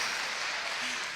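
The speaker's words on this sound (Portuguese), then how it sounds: "Tem que aplaudir, aplaude esses irmãos" Church congregation applauds during a sermon, a short, dense wash of many hands clapping at steady volume, heard briefly and continuously.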